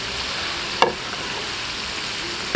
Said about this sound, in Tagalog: kaya ilalagay ko na ang ating patatas